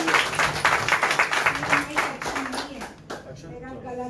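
A church congregation at a Friday worship service claps hands in thanks, a burst of group clapping that fades out midway, followed by quieter room sound with some voices.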